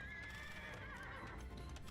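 A horse in a strategy video game whinnies clearly once, a drawn-out neigh over a low, steady rumble, with soft hoof clops near the end.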